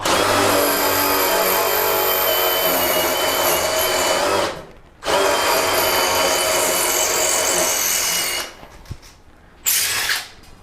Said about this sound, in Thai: ถ้าเกิดว่ามันเจอพวกคอนกรีตที่ แข็งหน่อยมันก็จะเจาะยากหน่อยอย่างเงี้ยแหละเพราะว่ามันไม่มีในเรื่องของระบบกระแทกนะครับ แต่ก็เจาะได้